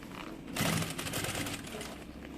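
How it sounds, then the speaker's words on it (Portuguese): A sewing machine stitches a double baby bottle holder in one quick burst of about a second, a soft rapid whir against a quiet room. "vai ajeitando e vai costurando"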